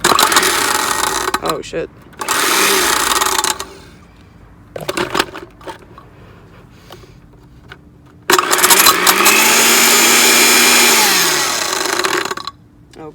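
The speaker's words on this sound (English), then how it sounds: "let's just go ahead and see what happens when I turn on the blender" A blender with an iPhone 4S inside runs in loud bursts, grinding and roaring for a few seconds, stopping, then starting again for a longer stretch, with a brief exclamation between runs.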